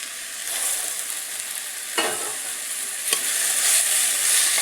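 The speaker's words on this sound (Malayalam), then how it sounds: "ഇനി നമുക്ക് കാബേജ്, ഗ്രീൻ പീസ് എല്ലാം, സിംല മിർച്ചി ഉണ്ടല്ലോ 3 കളറിൽ, അതൊക്കെ ഇട്ടിട്ട് ഒന്ന് നല്ല രീതിയിലൊന്ന് ഇളക്കി കൊടുക്കാം." Cabbage, green peas and three colours of capsicum stir-fried on high flame for egg fried rice, a loud steady sizzle with a couple of distinct spatula scrapes, growing hotter toward the end.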